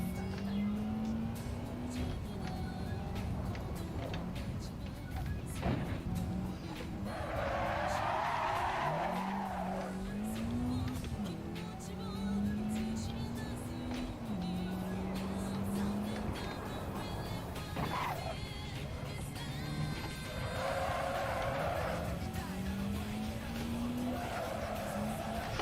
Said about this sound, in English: I need to change the engine sound.